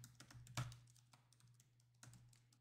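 Soft, close keystrokes on a computer keyboard at a Linux desktop installing Plasma 6, quick clusters of taps, one heavier burst, then a pause and a few more clicks over a faint steady hum.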